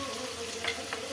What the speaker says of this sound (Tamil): கத்திரிக்காய் முக்கால்வாசி வேகிற வரையும் இதை நம்ம வதக்க விடலாம்